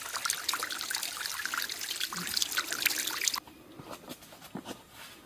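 A small trickle of water on a monsoon mountain trek near Matheran runs close by, a bright, bubbling dribble that is steady at first, then drops to softer, scattered splashes and drips.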